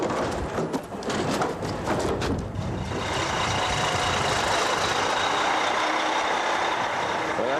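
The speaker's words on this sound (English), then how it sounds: "When I see that last truck rolling down the road" A truck engine rumbles nearby with reversing beeps and hiss of air brakes, then settles into a steady, continuous drone as it moves off.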